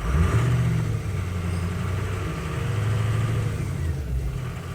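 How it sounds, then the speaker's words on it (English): Car engine revved after a crank-no-start repair, a steady low running drone with a mild rise in pitch, close and continuous without speech. "Let's rev it up a little bit."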